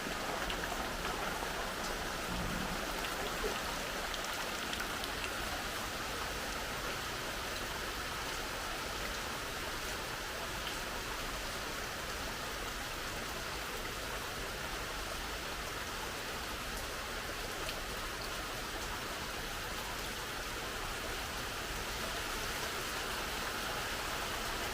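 Steady rain falling outside a house in Kerala, a soft, continuous hiss of drops on surfaces with no voices, even and unbroken throughout.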